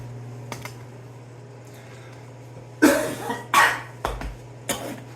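Several sharp coughs in bursts over a steady low hum in a truck repair shop, with a few smaller clicks in between.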